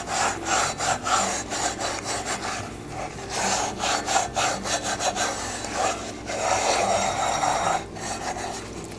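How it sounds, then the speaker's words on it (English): Steady abrasive scrubbing of a rusty cast iron piece with an SOS steel wool pad, a continuous gritty rasping with rhythmic back-and-forth strokes, close and fairly loud with no talking. "And an SOS pad is not going to hurt your cast iron."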